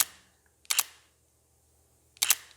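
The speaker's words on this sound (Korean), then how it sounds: "셔터 소리가 이런 셔터 소리가 납니다" A Sony A7C mirrorless camera fires its shutter twice, each a crisp, close mechanical double-click separated by about a second and a half of near silence.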